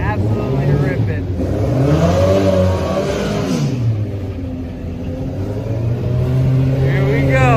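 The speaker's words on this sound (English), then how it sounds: "The noises are nuts. Just two motors absolutely ripping." A mini truck fitted with two motors revving hard, a loud, rising and falling engine roar with shifting pitch close by, while people talk over it.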